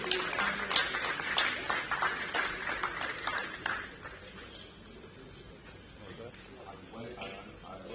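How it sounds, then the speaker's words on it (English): A project launch audience gives a round of applause that starts fairly full and thins out over several seconds, with people talking and calling over it as the clapping fades. "A big round of applause"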